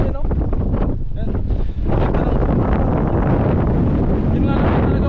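Strong sea wind roars and buffets the microphone continuously at the shore, loud and broadband, with a voice speaking faintly underneath.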